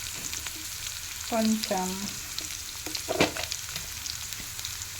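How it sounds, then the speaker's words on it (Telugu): Ginger paste frying in oil in a home pan while making a capsicum coconut curry gives a soft steady sizzle, with a brief word spoken and occasional stirring clinks. "పచ్చి వాసన పోయే వరకు అల్లం పేస్ట్ ఈ ఆయిల్లో ఫ్రై అవ్వాలన్నమాట."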